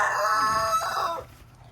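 A rooster in a backyard flock of chickens crows loudly and close by, one drawn-out call that fades at the end over a low hum of the surroundings.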